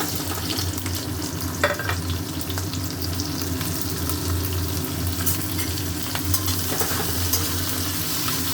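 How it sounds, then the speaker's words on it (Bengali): Onions frying in hot oil in a wok, a steady loud sizzle with crackling bursts and occasional stirring scrapes throughout, no voices. "কড়াইয়ে তেল গরম হয়ে গেছে, এখানে আমি দিচ্ছি পেঁয়াজ।"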